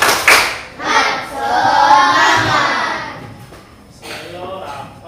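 Classroom of fifth-grade children doing a rhythmic clap chant: a few sharp hand claps at the start, then a chorus of young voices chanting together in a rising and falling pattern, close and lively.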